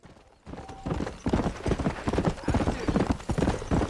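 Steady clip-clop of horse hooves trotting close by in the video game Red Dead Redemption, a rapid rhythmic beat that continues for several seconds after a brief quiet start.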